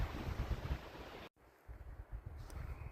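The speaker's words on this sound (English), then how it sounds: "It's a little windy right now." Wind gusting hard against the microphone during a spring shed hunt in New Mexico, a loud rumbling buffet that drops out briefly midway, then resumes strongly to the end.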